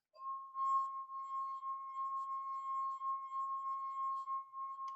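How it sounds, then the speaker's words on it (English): A drinking glass sings as its rim is rubbed, holding one steady, pure resonant tone with faint overtones for several seconds, close and clear with no talking. "I get the sticking and releasing to vibrate at the same frequency"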